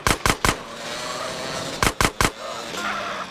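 Gunfire in GTA San Andreas cracks out in two quick triple bursts of sharp shots, close and loud, with game noise droning between them.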